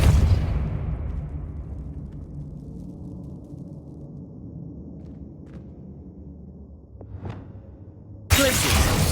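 A Depulso force spell cast in Hogwarts Legacy: a loud broadband whoosh at the start that fades into a low rumbling tail, a couple of faint ticks, then another sudden burst of noise near the end.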